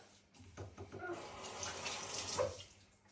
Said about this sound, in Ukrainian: змочую руки в воді